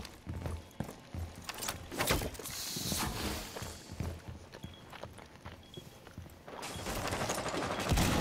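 Sporadic gunshots in a Rainbow Six Siege bomb-defuse round, sharp cracks scattered unevenly with short bursts, mixed with footsteps and a denser rush of fire near the end, at moderate distance.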